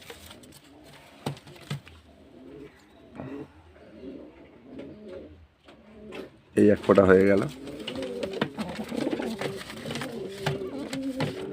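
Pigeons coo in soft, rounded bursts, one call standing out clearly near the middle, while a person talks over them as the birds are dosed with vaccine drops.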